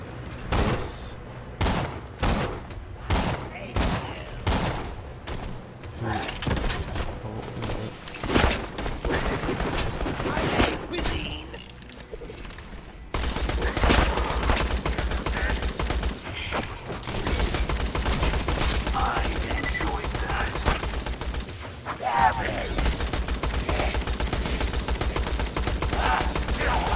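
Gunfire in the Borderlands 2 video game, a run of sharp rapid shots in quick bursts, then a denser, steady barrage of firing and game effects over a low rumble; a voice talks faintly at times.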